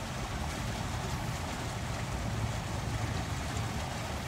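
Water of the O.C. Tanner fountain on a university campus: a steady, dense rush of falling and splashing water, close and continuous with no talk.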